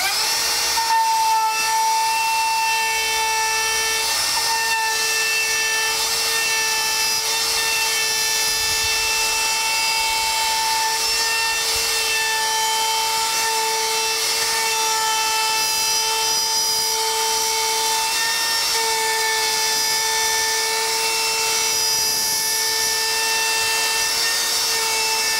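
A router cuts a shape from wood and resin in one continuous, loud, high-pitched whine with steady tonal harmonics and rough cutting noise, close up and uninterrupted.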